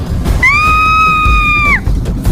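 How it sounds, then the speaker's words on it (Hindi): A woman in an animated Hindi horror cartoon lets out a single sustained scream, loud and tonal, holding about a second and a half before dropping off abruptly over a low rumbling background. "मुंह से एक गहरी चीख निकली"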